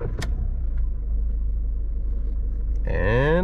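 A VW Polo V 1.6 TDI diesel with a 7-speed DSG, idling with a steady low rumble inside the car, then starting up near the end with a rising whirring crank and engine catch.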